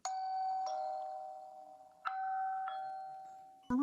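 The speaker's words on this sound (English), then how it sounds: "Someone's at the Wyze Duo Cam Doorbell." A Wyze Chime doorbell ringing, clear electronic ding-dong tones repeated twice and then cut off by a beep, close and alone.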